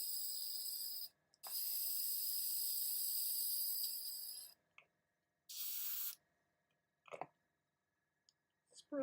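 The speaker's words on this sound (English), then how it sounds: "Spray." An aerosol spray paint can coats miniature Horus Heresy Astartes figures in loud hissing bursts: a short blast, then a long sustained spray of about three seconds and another brief burst, followed by quiet handling clicks and rattles.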